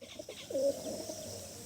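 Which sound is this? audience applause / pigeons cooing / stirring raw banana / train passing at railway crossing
pigeons cooing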